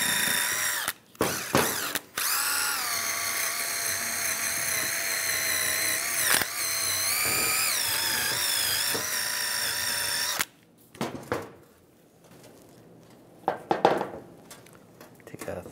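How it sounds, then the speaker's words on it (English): A power-driven wire brush whines against rusty brake parts on a 2007-2013 Chevy Silverado 1500, a loud sustained grinding run with pitch shifts, followed by quieter clicks and handling sounds. "You can use a wire brush. Just clean any of the rust buildup underneath there."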